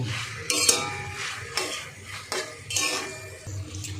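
Utensil scraping and clinking in a pan as chhana (cottage cheese) curry is stirred and mixed, a few distinct metallic scrapes and knocks over a low background hum, close and moderately loud.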